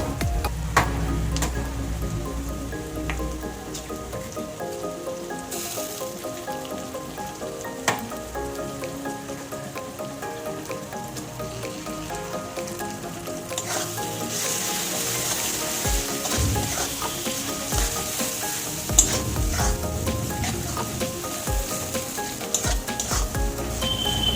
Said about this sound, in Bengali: ডিমটা দিয়ে ভালো করে ভেজে নিয়েছি